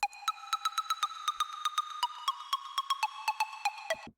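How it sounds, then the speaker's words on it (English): Bright, short synth plucks from Serum in a quick, slightly uneven melodic pattern of around twenty notes, crisp and upfront with fast decays, nothing else playing. "It's also being layered with this other pluck here,"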